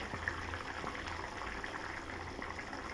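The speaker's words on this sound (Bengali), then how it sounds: "আর এখানে আমি বুটের ডাল করেছি, অল্প জল দিয়ে দিয়েছি, সিদ্ধ হবে।" Chickpea dal simmering in a little water in a pot, a soft continuous bubbling and burbling, close and steady for a few seconds.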